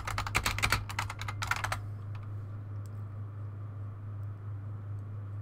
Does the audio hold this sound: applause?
no